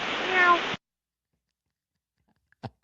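A pilot's voice imitates a cat, meowing over the air traffic control radio frequency at Ronald Reagan Washington National Airport. The transmission sounds thin and band-limited, lasts under a second, and is followed by silence and a couple of faint radio clicks.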